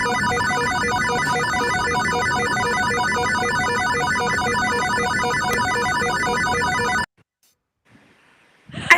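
A telephone ringtone sound effect rings steadily and loudly with a repeating electronic pattern for about seven seconds, then cuts off abruptly into near silence with faint noises at the end.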